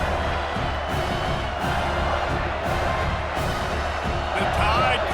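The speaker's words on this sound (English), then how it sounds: "The Tide crowd rolling noise down onto Saban Field on third down" Alabama Crimson Tide home crowd roaring steadily at Saban Field during an Auburn–Alabama football game on third down, a dense, continuous wash of cheering that swells slightly near the end, with commentary voices over it.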